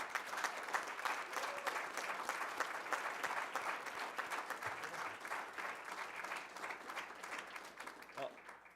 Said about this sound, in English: All these people are clapping because this is a huge accomplishment